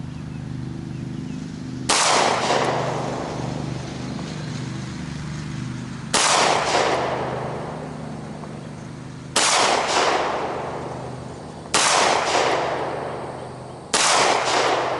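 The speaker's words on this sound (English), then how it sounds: "First I have Winchester fired through the Beretta." 9mm Winchester FMJ rounds fired from a Beretta pistol at 6 yards, five sharp, loud shots spaced about two to three seconds apart, each ringing out briefly over a steady low background hum.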